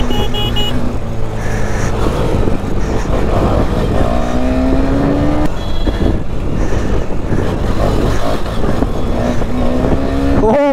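A Kawasaki H2R motorcycle engine revs loudly and continuously close by on a jammed street, the pitch climbing in repeated sweeps over constant wind noise and traffic din.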